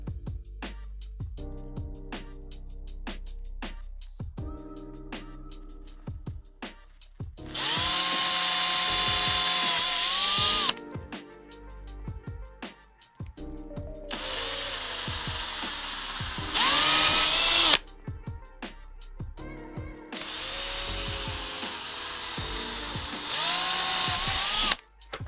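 Power drill boring a hole with a larger bit while building a pan-tilt camera mount, several loud whirring bursts of a few seconds each with pitch sagging under load, separated by short clicks and handling noise.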